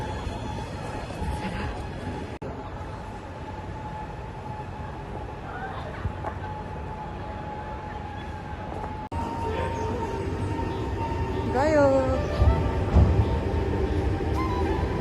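A train pulls out of Fujisawa station in Japan with a steady rolling rumble, a low hum and a few metallic squeals. A person speaks briefly nearby.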